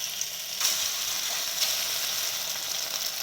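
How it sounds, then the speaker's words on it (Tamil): Small marinated chicken pieces frying in hot oil in a kadai, a soft continuous hiss of bubbling oil with faint crackles and one or two brief louder spits. "அந்த சிக்கனை இதில் போட்டு நல்லா ஃப்ரை பண்ணி எடுத்துக்கலாம்"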